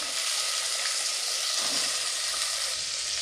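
Ridge gourd frying in a pan with garlic and curry leaves for sambar, a steady, fairly loud broadband sizzle that runs unbroken, with a faint scrape of stirring midway and no voices.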